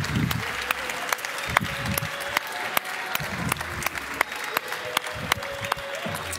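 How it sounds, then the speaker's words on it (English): An audience at a startup pitch competition applauds the winner with steady, moderately loud clapping that keeps going throughout, with a few voices mixed in. "Give him a round of applause."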